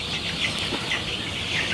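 Several young roosters cluck and murmur close by in a coop, a busy overlapping chatter with no talking.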